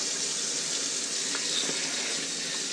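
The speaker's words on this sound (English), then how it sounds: "we're gonna rinse it off in the sink" Tap water runs steadily into a kitchen sink while burbot fillets are rinsed, a continuous close hiss and splash with a few brief clinks, no talking.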